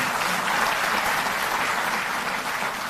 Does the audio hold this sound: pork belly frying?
no